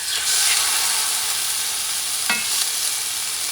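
Lamb steak sizzling in a preheated frying pan, a steady bright hiss of frying held throughout with a brief louder crackle near the end, no talking.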